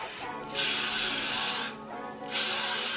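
Spray can hissing onto a wig cap during a wig install: two steady, loud sprays, each lasting over a second, separated by a brief pause, close and alone with no talking.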